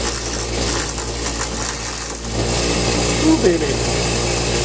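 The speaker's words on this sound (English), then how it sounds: "you're going to round this nut with a bench grinder" Bench grinder running and grinding a snowblower shear pin nut, a loud continuous motor hum with harsh rasping grit that swells slightly near the end, with a brief exclamation from a voice over it.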